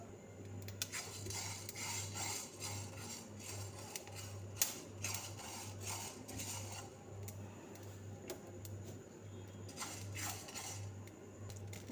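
Black mustard seeds dry-roast in a pan over a low flame and are stirred slowly, producing quiet scraping and light ticking against the metal over a steady low hum.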